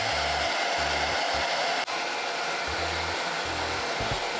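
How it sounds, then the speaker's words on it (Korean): A hair dryer dries hair at a Brazilian beauty clinic, blowing loudly and steadily nearby, with a faint on-off rhythmic pulse beneath the constant airflow and one brief dip near the middle. "드라이로 머리를 말려주셨어요"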